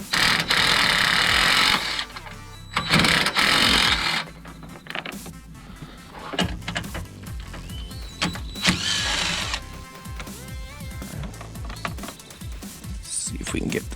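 A ratcheting wrench works 10mm bolts loose from the grill of a 2007 Honda Civic Si, giving bursts of rapid mechanical clicking with metallic clinks, while someone talks over parts of it.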